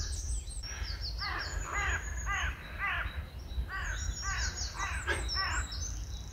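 Crows caw repeatedly in steady bursts at an allotment garden, moderately close, over a constant low outdoor rumble, with no talk.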